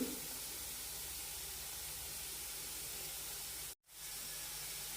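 Colocasia masala fry sautés in a pan with a steady, soft sizzling hiss, interrupted by one brief silent gap shortly before the end.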